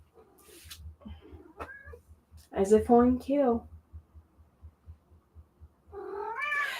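A pet cat meows in a few drawn-out calls, loud and close, between bits of a person talking.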